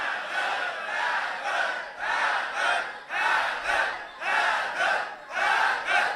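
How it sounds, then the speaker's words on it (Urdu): A large religious gathering chants the cry "Haidar" loudly in unison, repeated surges of massed voices rising and falling roughly every second, filling the space with no single speaker. "اونچی کہو حیدر."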